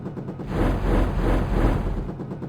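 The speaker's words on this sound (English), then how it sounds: "Notice it takes a while to fire 8 rockets, but what destruction." A Longbow attack helicopter firing a salvo of rockets in the flight simulator Jane's Longbow, a loud, dense, sustained roaring rumble of launches with no distinct pauses.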